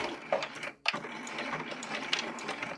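A sewing machine runs a straight seam across a lined zipper pouch, with back stitching at the start and stop. Its close, steady whirring rattle breaks off briefly partway through and then resumes at an even pace.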